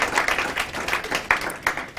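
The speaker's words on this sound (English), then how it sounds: "we can give the panelists a round of applause for that first part on decent work" An audience gives panelists a short round of applause at a youth caucus event in Southern Africa, a brief patter of claps at moderate distance with a few distinct louder claps.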